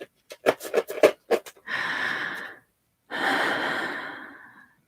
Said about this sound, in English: You can take some regular, deep,